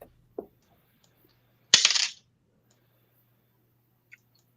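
A single short burst of tabletop dice clattering to a stop during a tabletop role-playing session, with a couple of faint clicks before and after in an otherwise quiet room.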